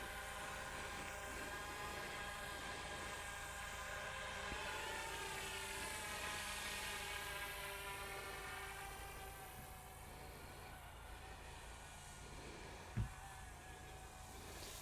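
A Goosky E2 GPS beginner scale RC helicopter flies nearby, its rotors giving a steady, layered whine with shifting pitch over a continuous hum, and a brief sharp click near the end.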